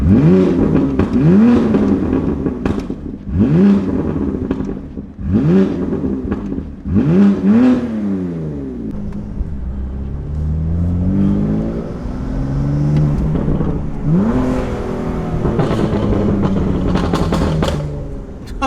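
A BMW F82 M4 Competition fitted with an upgraded valved exhaust revs repeatedly from inside the cabin, several loud throttle blips rising and falling, then a longer sustained drone and a final rev.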